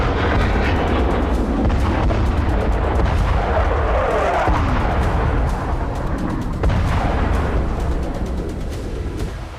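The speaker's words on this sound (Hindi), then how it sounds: "दक्षिण लेबनान में जहां से भी इजराइल पर रॉकेट प्रहार हो रहा है, उस लोकेशन पर बमबारी की जा रही है।" Bombardment in southern Lebanon, a continuous heavy rumble of explosions and artillery fire with dense booming, loud and unbroken throughout.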